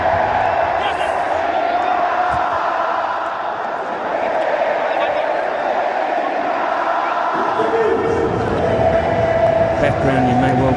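Faithful cricket crowd singing in the background of a stadium, a broad sustained chant of many voices at a distance, partly masked by someone talking over it.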